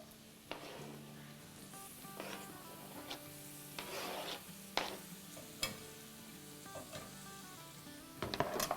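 Keema tipped into a pan of frying okra and onion sizzles steadily, with several sharp stirring scrapes and clatters from a spoon against the pan; no one speaks.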